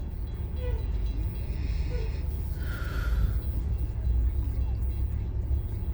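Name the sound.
freight train passing with green locomotive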